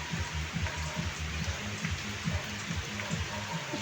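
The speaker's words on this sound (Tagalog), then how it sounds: "Ang lakas ng ulan." Heavy rain pours steadily in a rural province of the Bicol region, a dense hiss of falling water with close droplets pattering on a surface, constant and even throughout.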